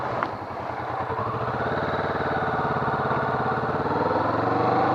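A Kawasaki Vulcan S motorcycle rides at low speed, its engine holding a steady, fairly loud low rumble that swells slightly toward the end, with no talking.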